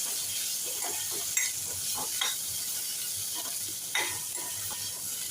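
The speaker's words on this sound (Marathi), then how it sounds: "आता लगेचच आपण शहाळ्याचे तुकडे घालूया छान परतून घेऊया" Tender coconut pieces sauté in a hot pan with a steady broadband sizzle, punctuated by a few louder scraping stirs of the spatula.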